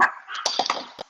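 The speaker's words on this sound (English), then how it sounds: "so if you hear any barking in the background" Dogs bark and yip in short excited bursts in the background, several quick calls crowding a single second.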